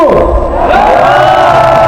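Large rally audience roaring and cheering in a steady, loud wash of voices that swells slightly near the start and holds throughout.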